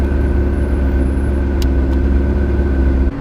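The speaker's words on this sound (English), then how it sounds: "One of the things I love about convertible exotic cars and sports cars is just how much you can hear the engine." A McLaren 650S convertible sports car engine rumbles steadily and loudly throughout, a deep continuous drone with no talking, briefly dipping at the very end.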